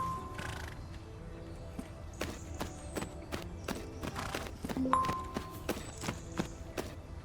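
Hoofbeats of a horse being ridden in a video game, irregular clip-clopping steps at walking pace with occasional sharp clicks and faint background game sounds.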